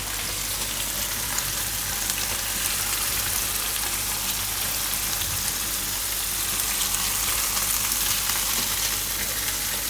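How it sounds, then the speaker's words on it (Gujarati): Paneer roasting and being stirred in a hot kadai, a steady close sizzle and frying hiss throughout with faint scraping, no talking. "થોડોક આનો કલર ચેન્જ થાય એવું ફેરવીને શેકી લઉં"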